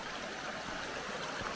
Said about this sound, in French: c'est la grosse cascade